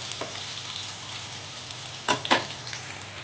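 Chopped onion and garlic frying and browning in oil in a pan, a steady close sizzle with a couple of short scraping stirs near the end.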